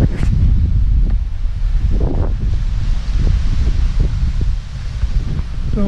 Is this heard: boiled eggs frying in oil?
no